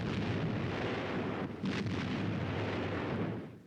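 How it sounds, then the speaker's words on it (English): Heavy naval guns of a moored fleet firing in an artillery bombardment, a dense rumbling roar of distant blasts that briefly dips and swells again before fading. "The heavy guns of the fleet backed them up from its moorings."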